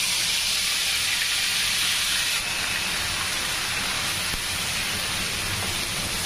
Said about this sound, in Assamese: মছলাখিনি ধুনীয়াকৈ ভাজি ল'ম মই।